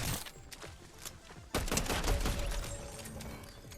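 A Fortnite bot's distant gunfire crackles in a short burst sequence, fairly quiet, with a sharper cluster of shots partway through and no talking.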